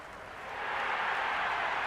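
Stadium crowd at a Lord's cricket match in the video game Cricket 26, a broad steady roar of applause that swells after the first half-second and holds loud and continuous.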